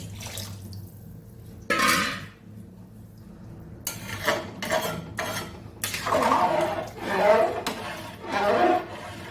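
Water is poured into a pot of winter khichuri with new potatoes and cauliflower, giving a few splashing, sloshing bursts with clinks of the pot, heard close in a home kitchen.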